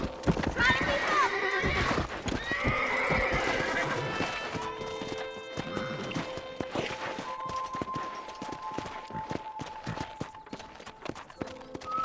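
Horses' hooves clip-clop in a quick running rhythm in the Red Dead Redemption video game, with a neigh early on, while people talk over the hoofbeats.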